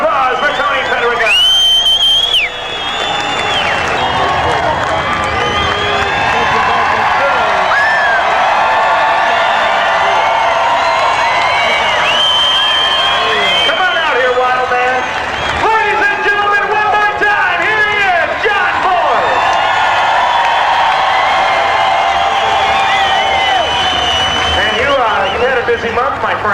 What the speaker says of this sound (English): how about a round of applause for Tony Pedregal